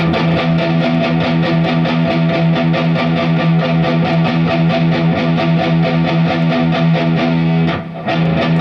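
A distorted electric guitar played through an MXR M108S 10-band EQ pedal plays a steady, rhythmic pattern of repeated notes, loud and close, then briefly stops near the end.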